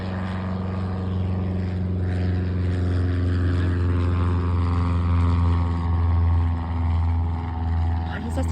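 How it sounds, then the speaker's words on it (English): A Cessna propeller plane passes at a small airfield, its steady engine drone and prop hum holding loud and constant throughout, with people talking over it. "There goes the Cessna."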